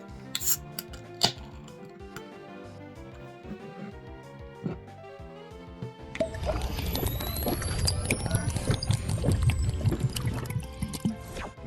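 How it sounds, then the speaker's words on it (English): A can of BrewDog Mugshot beer, 5.2%, opens with light metallic clicks and handling, then pours in a continuous fizzing, gurgling stream into a glass, close and fairly loud, with no talking. "So let us open and pour some."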